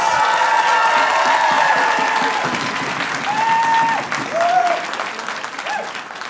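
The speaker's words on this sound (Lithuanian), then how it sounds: "dabar padarykim, ką darėm prieš tai šiltais plojimais" A studio audience at a comedy show claps warmly, with loud applause and some cheering that gradually thins, while a few voices and short tonal sounds cut through near the end.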